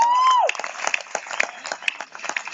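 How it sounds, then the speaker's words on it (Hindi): Audience at a college poetry recital clapping after a sustained voice ends, a brief, thin burst of scattered, light claps that stays fairly quiet. "ये कमजोर तालियां हैं"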